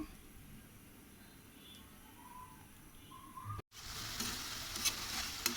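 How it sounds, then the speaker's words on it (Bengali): Chicken gizzards frying with sweet pumpkin in a home kitchen, a steady sizzle that turns louder and brighter after a brief cut, with faint birdsong in the background and no talk. "রান্না করে নিচ্ছি মুরগির গিলা করে দিয়ে মিষ্টি কুমড়া"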